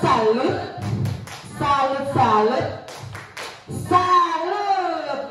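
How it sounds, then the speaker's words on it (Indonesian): Rhythmic group clapping salute in an Indonesian school classroom, short patterned bursts of claps mixed with voices and chanting at close range. "Ayo layak tepuk salut."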